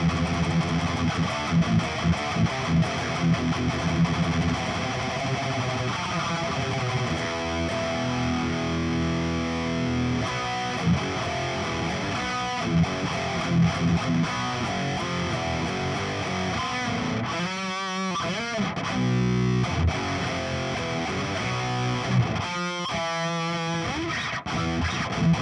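Heavy, distorted electric guitar riffs through an Overloud TH-U amp simulator, played loud and continuous with chugging rhythm and brief pauses, no voice.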